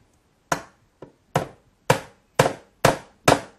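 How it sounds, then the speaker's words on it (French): A hammer drives a nail into wood. Six or so sharp, separate blows strike at a steady pace, near and fairly quiet, with no speech. "C'est pas la peine de taper comme une brute, le clou va s'enfoncer quand même."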